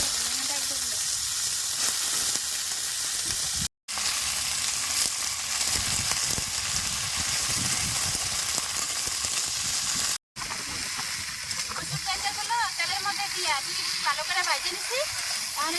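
Steady, loud sizzling and hissing of green chillies frying in hot oil continues throughout, with a voice talking over it and two brief cut-outs.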